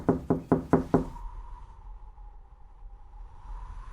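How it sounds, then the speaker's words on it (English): Knocking on a door: five quick, evenly spaced sharp knocks, close and loud, followed by a faint low hum in an otherwise quiet room. "The grasshopper knocked on the ant's door."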